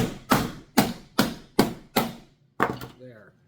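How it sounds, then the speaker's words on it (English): An IBM electronic part is smashed for scrap with a hammer, five loud, sharp blows falling in a steady rhythm about half a second apart, then a sixth strike after a short pause. A brief bit of voice follows. "That just means hit it with the hammer harder."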